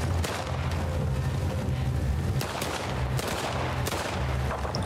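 Sustained gunfire in The Last of Us Part 2, a dense, continuous burst of loud shots with a few sharper cracks standing out, over a low rumbling backdrop and no talk.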